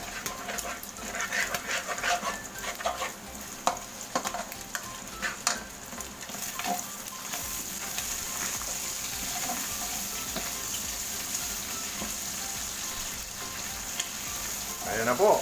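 Oil sizzles and crackles steadily in a pan while cooking Bicol Express, with a continuous hiss and scattered spattering pops and a few stirring clatters, fairly close and moderately loud.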